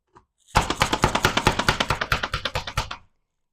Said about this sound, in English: The chopper is just so easy to use.